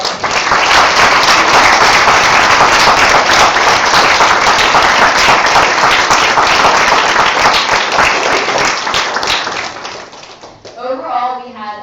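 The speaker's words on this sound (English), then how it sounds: "let's give a round of applause for us" Loud, sustained applause from a large audience at a summer camp closing ceremony fills the space, then fades out as a voice starts speaking at the end.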